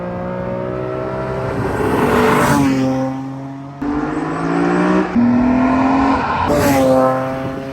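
A BMW E46 M3 Clubsport's engine revs hard and high, its rasping note climbing through gears with brief drops between pulls, loud and close, without any talk.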